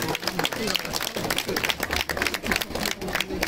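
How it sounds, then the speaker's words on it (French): Applause from a crowd at a Guardians of the Galaxy show at Disneyland Paris, a dense, lively burst of clapping mixed with crowd voices and talking throughout. "vous pouvez les applaudir encore une fois"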